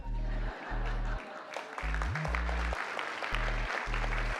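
Audience applause at a presidential address and signing event, a crowd clapping steadily for several seconds with dense broadband patter, cut across by repeated low tonal bursts.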